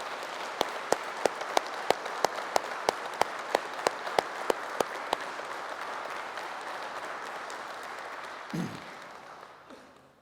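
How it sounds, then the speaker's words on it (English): Seated crowd at a military commemoration gives a round of applause, a broad wash of clapping with sharp, regularly spaced individual claps standing out, slowly thinning and fading toward the end, with a brief thump near the close. "I'll ask you to give Robbie a round of applause."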